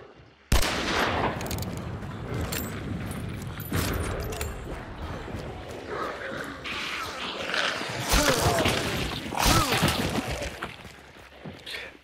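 Loud gunfire and explosive blasts from the shooter game Hunt: Showdown, a dense, sustained barrage of overlapping shots and crashing impacts, with voices mixed in underneath.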